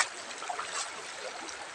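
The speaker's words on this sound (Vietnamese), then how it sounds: "Hiện tại chúng tôi đang đi qua một cái suối." A forest stream being waded across gives off a soft, steady rush of flowing water, faint and continuous throughout.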